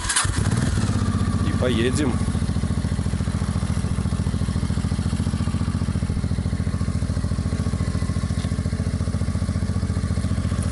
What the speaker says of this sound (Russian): Давайте запускать мотоцикл